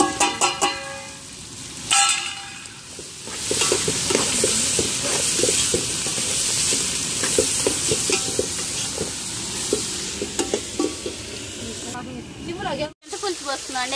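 Food fries in a pan with a continuous sizzling hiss and occasional stirring scrapes, heard close while people talk over it.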